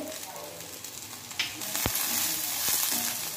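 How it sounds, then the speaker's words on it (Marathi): Cluster beans and green chillies being stir-fried with a pinch of cumin in a pan, giving a steady close sizzle with a brief clink or two of stirring. "हे बघा मिरच्याही चांगल्या डाग पडले तसे मिरचीला आणि गवारी पण चांगली परतली गेलेली आहे"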